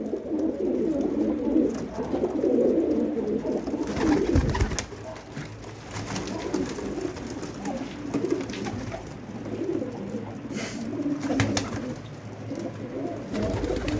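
Pigeons kept for sale at a bird market coo in low, rolling bursts, close and steady under a quiet background hiss, with occasional rustles and handling knocks.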